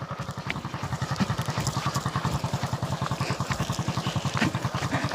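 A motorcycle engine chugs close by in a fast, steady pulsing rhythm on a slippery road, with small clattering sounds over it.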